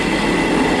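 Class 158 diesel multiple unit, unit 158741, on the 14:44 service to Edinburgh, heard as a steady, loud rumble of the train in motion with continuous wheel and rail noise and no talk.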